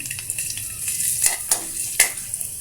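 Ginger sautéed in a little oil in a pan gives a soft crackling sizzle, broken by a few sharp scraping clicks of a utensil stirring against the pan.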